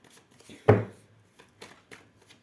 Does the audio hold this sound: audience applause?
no